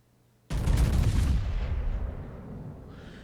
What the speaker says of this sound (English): takes a pot shot with a rear turret